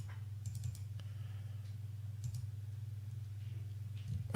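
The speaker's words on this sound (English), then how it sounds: "You could probably hear me clicking away." Mouse clicks and keyboard taps from a computer during a lunar live stream, a few sparse clicks near the start and middle set against a steady low hum, quiet and close.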